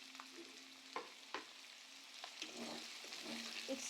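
Chopped onions frying in a pan for a simple chicken dish, a soft steady sizzle broken by a few sharp scrapes of a spoon stirring, close and fairly quiet, with no voices.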